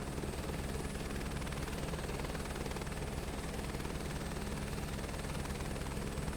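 Steady helicopter rotor and engine drone from a flight simulator game flown with a force feedback flightstick, a continuous even whir with a faint high whine, constant level throughout and no talking.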